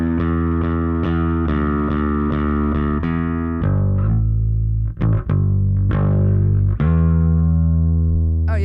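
Bass guitar played through an Ampeg SVT amp simulator pedal with a DI cab sim, loud and close: repeated picked notes with a gritty, driven tone, then a few sharp slides and accents before a sustained chord-like ring.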